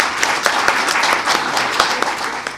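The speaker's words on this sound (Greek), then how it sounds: "να τις δώσουμε επίσης από εδώ ένα θερμό χειροκρότημα." An audience at an Alzheimer's association greeting event in Heraklion gives a steady burst of warm applause, many hands clapping together in a dense, even wash close to the listener.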